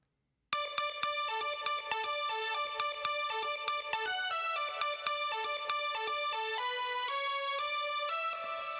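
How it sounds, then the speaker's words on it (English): Bright lead synth from Halion Sonic SE playing a fast, busy melody of short stacked notes, loud and sustained throughout, heard alone with no voices. "if I only play the lead synth"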